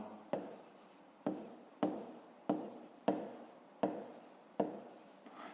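A pen or pencil writes by hand on paper in seven short, evenly spaced strokes, each beginning with a crisp scratch that fades out, close and quiet.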